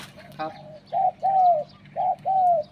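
Small cage bird at a Thai breeder's home giving a short chirp, then four soft, rounded whistled calls in two evenly spaced pairs, close and clear over faint background hum.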